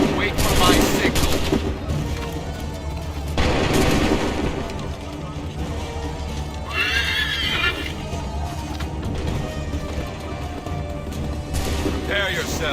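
Gunfire rattles through a video game battle, with dense bursts of shots mixed with horses neighing and hooves, while voices shout orders over the din.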